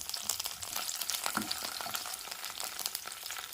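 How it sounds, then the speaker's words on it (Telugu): Green chillies and curry leaves fry in hot oil with a dense, crackling sizzle that stays busy and close throughout. "ఇప్పుడు పచ్చిమిర్చి వేసుకున్నాం."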